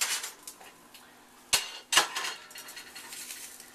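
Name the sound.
omelette pan handled while taking omelette out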